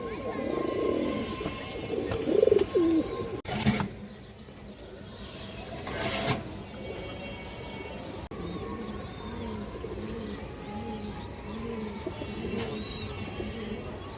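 A red Muslodom pigeon, sitting on eggs, coos in a repeated series of soft throaty calls close by, with a couple of sharp noises and a person talking over the first few seconds.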